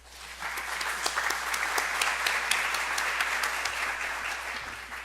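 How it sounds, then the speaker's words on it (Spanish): Steady audience applause for a conference panel at an education and technology congress, a dense wash of many hands clapping at even loudness for about five seconds, with no voices over it. "le brindamos aplausos a nuestra mesa"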